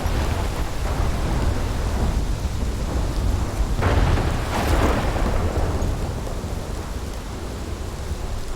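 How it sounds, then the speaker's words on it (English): A heavy thunderstorm in the Life Is Strange video game roars steadily with dense rain and wind, while a rumbling thunder crack swells in the middle, loud and enveloping with no voices. "This is my storm. I caused this."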